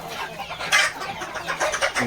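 A native village hen with her chicks, giving brief clucks and peeps among other mixed chickens in a farmyard, moderately close over faint background noise.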